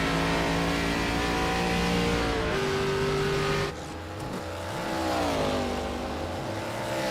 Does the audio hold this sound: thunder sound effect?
no